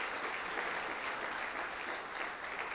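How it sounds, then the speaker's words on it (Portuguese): Church congregation clapping during an evening service, an even, sustained round of applause that stays level throughout. "Dê uma salva de palmas ao Senhor pela vida deles."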